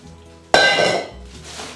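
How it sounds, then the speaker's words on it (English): Raw potato chunks, about four ounces, dumped into a pot on top of a pot roast in a home kitchen, landing in one sudden loud tumbling thud that fades over about a second, with no talk. "I've got them cut up into chunks kind of like this, so they'll cook well, and I'm dumping those on top."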